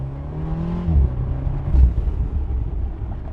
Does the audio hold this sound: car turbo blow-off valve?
yes